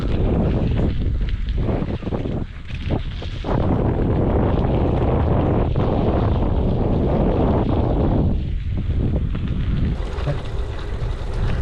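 Strong wind on a mountain buffets the microphone with loud, continuous roaring gusts that swell and ease for several seconds, drowning out everything else.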